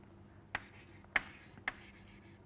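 Four faint, sharp taps from handwriting an equation arrive at a slow, uneven pace, each a brief scratch of a pen over a quiet background.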